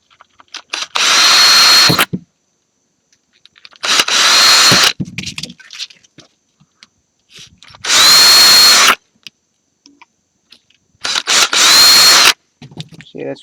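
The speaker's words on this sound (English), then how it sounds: "get a small drill bit out and drill those 4 pilot holes" A power drill with a small bit whirs in four loud bursts, drilling pilot holes in a PlayStation 2 case, each lasting about a second, separated by quiet gaps with faint handling noises.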